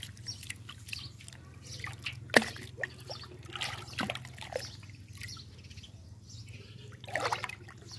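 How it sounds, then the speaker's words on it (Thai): Silk yarn rinsed in plain water, with intermittent splashes, trickles and drips coming in irregular bursts over a low steady hum. "เอามาล้างน้ำนะคะ น้ำเปล่าอีกสองรอบนะคะ หลังจากพอกแล้วนะคะล้างน้ำอีกสองรอบ"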